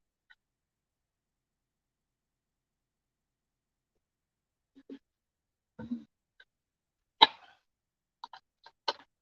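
A few short, harsh coughs and throat-clearing sounds break a long silence, close and sporadic, clustering toward the end.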